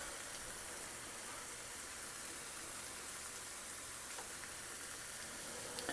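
Eggs frying in a pan, a soft steady sizzle with faint crackles and no voices, heard close.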